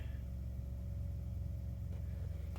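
A car engine idles during a whole-vehicle diagnostic scan, a steady low rumble with a faint constant hum, quiet and unchanging throughout.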